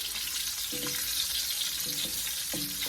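Onions fry in a generous amount of oil for a salmon Thai curry, producing a strong, steady sizzle up close with a few brief scraping stirs of a utensil against the pan.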